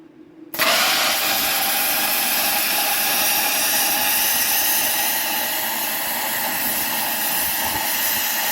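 A plasma cutter cuts metal on a Ford Escort Mk1 front leaf spring hanger: a loud, continuous roaring hiss starts abruptly and holds steady for several seconds, harsh and broadband.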